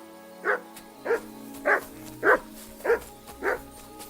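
Mutt, a dog in Kingdom Come: Deliverance II, barks six times in an evenly spaced series, each bark loud and close, with faint game ambience between.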